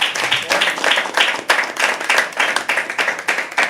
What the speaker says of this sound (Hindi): जोरदार तालियां ध्रुव के लिए दोस्तों